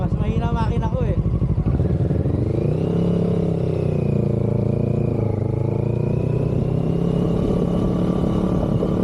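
A motorcycle engine drones steadily while riding on an adventure ride, its pitch rising and dipping with throttle, wind and road rumble underneath.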